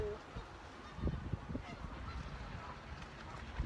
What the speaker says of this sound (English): a lot of geese. So if you hear anything crazy in the background, that is what's going on.